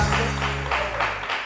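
Studio audience at a Pakistani TV morning show claps steadily for a drama cast, the dense patter lasting throughout over a low sustained musical drone.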